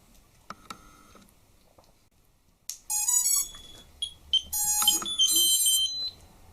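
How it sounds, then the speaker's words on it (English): A GepRC MX3 Sparrow micro FPV racing drone emits bright electronic beeps and tone sequences while entering bind mode, starting with a few isolated chirps and then rising into loud, rapid melodic beeping patterns close to the microphone. "And it'll start beeping."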